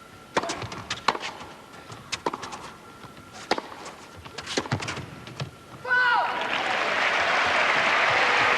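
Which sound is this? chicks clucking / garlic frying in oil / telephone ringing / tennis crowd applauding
tennis crowd applauding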